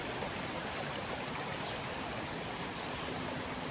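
A creek on a Shenandoah trail rushes steadily beside a log crossing, a dense, continuous broadband wash of flowing water, close and even throughout with no voices.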